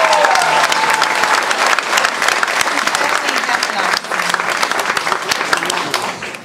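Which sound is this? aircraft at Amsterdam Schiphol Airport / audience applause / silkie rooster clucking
audience applause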